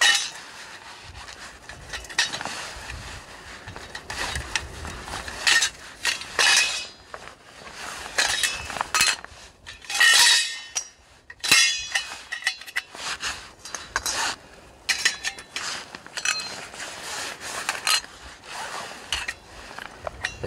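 Metal parts clink, scrape and rattle as a small metal wood-gas camping stove for wood pellets is handled up close, with irregular clatters and rubbing sounds throughout.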